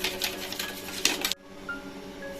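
Two eggs are beaten in a bowl in a home kitchen for Bombay toast, giving a quick run of rapid, rhythmic clinking and whisking up close that stops abruptly, leaving a low room hum.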